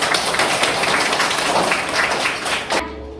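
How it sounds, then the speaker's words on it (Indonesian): A classroom of students claps together in a dense burst of close, rapid applause lasting nearly three seconds, then stops abruptly into quiet. "Tepuk tangan semuanya."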